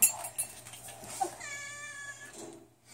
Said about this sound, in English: Let's go meet some nice kittens.